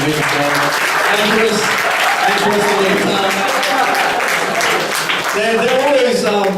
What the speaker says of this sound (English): Can we just have another round of applause for these two ladies?